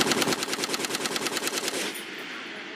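Machine gun fire during Army live-fire team training, a loud rapid even burst of about twenty shots lasting nearly two seconds, then a fading echo outdoors.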